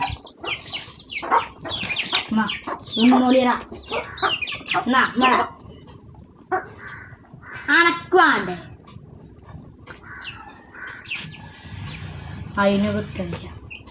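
Hens cluck and peck around a small chick while being fed scattered feed, short clucks recurring throughout beneath near, steady conversation.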